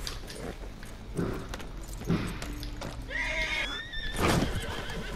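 A horse in Red Dead Redemption 2 gives a loud whinny over steady clip-clop of hooves, with game ambience and a jangling sound running throughout.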